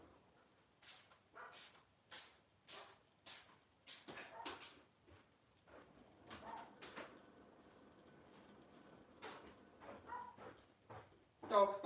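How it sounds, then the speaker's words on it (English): A dog barks repeatedly outside, wanting to be let back in, in short spaced bursts at a moderate distance, while a person talks quietly at times. "Dog's barking to come in."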